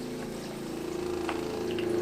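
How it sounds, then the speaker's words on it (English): RV water pump running steadily as it draws a gallon of vinegar into the water heater, a continuous close motor hum with a faint liquid trickle, no talking. "So that's the next step, is getting this into our gallon of vinegar and turning on the water pump."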